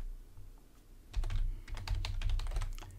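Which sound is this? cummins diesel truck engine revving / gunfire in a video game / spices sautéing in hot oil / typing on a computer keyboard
typing on a computer keyboard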